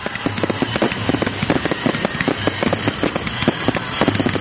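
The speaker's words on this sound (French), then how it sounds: "des feux d'artifice qui ont été lancés pendant une vingtaine de minutes" Rapid, loud bursts of fireworks crackling and popping continuously, a dense barrage of sharp bangs with no pause.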